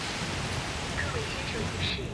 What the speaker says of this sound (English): Now, in the rain.